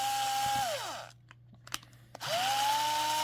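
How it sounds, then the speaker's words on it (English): A small electric screwdriver backs screws out of a 2017 McDonald's Invisible Mario toy, whining down to a stop, a brief pause with faint clicks, then whirring back up at close range. "let's go ahead and remove the other two screws"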